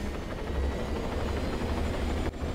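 Helicopter lifting off in the video game ARMA 3, a loud steady rotor and engine drone with heavy low thrum that holds throughout, briefly dipping near the end.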